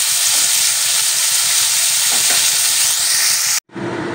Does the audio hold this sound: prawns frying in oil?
yes